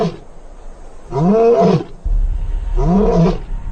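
Old resident male lions roar loud warnings in the wild, two deep, drawn-out roars separated by a pause, close and powerful against a quiet background.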